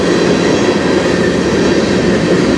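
A CN freight train with hopper and potash cars rolls past on the Strathroy Subdivision, a loud, steady rumble of wheels and cars with no voices.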